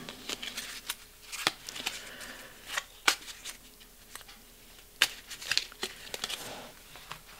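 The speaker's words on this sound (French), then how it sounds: "j'ai bien mélangé les cartes" Oracle cards being shuffled by hand during a weekly card reading: a quick run of dry papery riffles and slaps comes in irregular bursts, close and moderately loud, with no voice over them.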